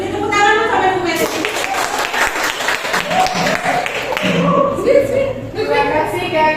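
A classroom gives a round of applause for Ibu Meris, with brisk close clapping from students filling several seconds, some thumps, and voices chattering through it.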